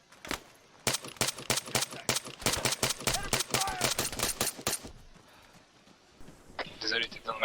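Rapid bursts and single sharp shots of gunfire in the video game Arma 3 crack loudly in quick succession for about five seconds, then give way to quieter ambience and a brief voice.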